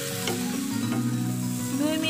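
Spices frying in a pan with tomato sauce and soy sauce for a spicy egg pasta, a loud close sizzle with quick stirring scrapes throughout.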